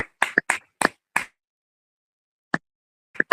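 Crisp hand claps ring out during a prayer meeting, first a quick irregular cluster of about six sharp claps, then silence, a single clap, and a final pair, close and clear against a silent background.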